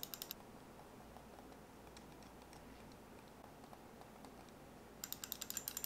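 A Logitech computer mouse clicks in quick bursts of sharp, close ticks, first a short cluster, then a faint stretch of scattered light clicks, then another rapid run at the end, against a quiet background.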